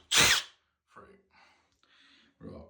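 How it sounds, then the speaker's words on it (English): A drill with a tile bit gives one short, sharp burst through tile, followed by quieter intermittent grinding and clicking sounds. "And then we just blast through that tile. Easy to drill through these ones."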